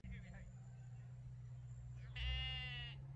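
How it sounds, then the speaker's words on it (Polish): A sheep bleats once, loud and fairly close, on a pasture where a shepherd with a border collie moves the flock, heard after a stretch of low steady outdoor rumble. "tam pasterz owiec z border collie zapędza je z pastwiska na pastwisko"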